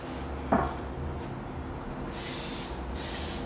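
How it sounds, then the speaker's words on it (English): A steady hiss of aerosol cooking spray onto a pan runs in two bursts after a single light knock, close and fairly loud, with no talking. "Time to spray the pan."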